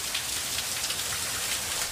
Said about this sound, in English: This is an unusual and strong storm event with heavy rains and strong winds.